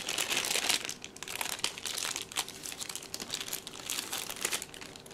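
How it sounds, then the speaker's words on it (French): Crinkling and tearing of the plastic and paper packaging around a Motorola Moto G (2015, third generation) phone charger as it is unwrapped, a close, continuous rustle with sharper crackles throughout. "Et là, on a le chargeur. Je vais l'ouvrir."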